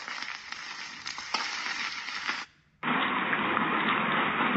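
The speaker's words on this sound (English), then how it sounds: "Much newer, more modern fire." Steady crackling fire noise from a speaker, broad and hissy, cutting out briefly before a second, thinner crackling loop starts up.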